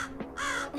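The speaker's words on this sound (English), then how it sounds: "a bird" A crow caws a few times in quick succession, harsh and nasal, fairly close and clear, with no talking.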